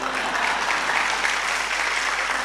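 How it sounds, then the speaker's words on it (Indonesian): Audience clapping at an Indonesian religious talk, a dense steady wash of many hands applauding continuously at moderate loudness with no break. "tepuk tangan, enggak usah malu-malu"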